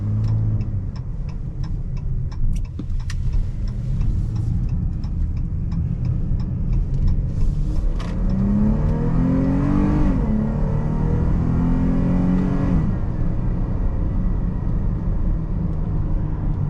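A Chrysler 300 in sport mode accelerates in a strong, steady engine drone, with a rising note swelling around the middle before it eases off, heard from inside the car with faint ticking in the background.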